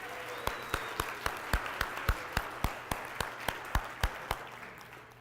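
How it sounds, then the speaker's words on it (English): Audience claps at a keynote in a steady, evenly spaced rhythm, like a few people clapping in time, each clap sharp and distinct over a low hum of room noise. "all I can give him is a humongous round of applause."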